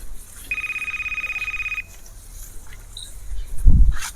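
A telephone rings once, a bright electronic tone lasting just over a second, and a faint thump follows a moment later.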